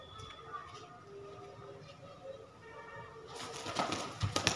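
Pigeon of a high-flying Indian breed being held, with soft cooing and faint wing or body rustles, brief close handling noises rising toward the end; no speech.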